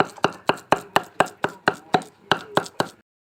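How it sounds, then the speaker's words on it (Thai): Catfish meat chopped with a knife gives about twelve sharp, evenly spaced thuds on a board, close and loud, then stops, with no voices. "แล้วแรกก็จะมาสับแบบนี้ครับ"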